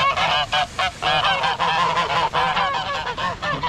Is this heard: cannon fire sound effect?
no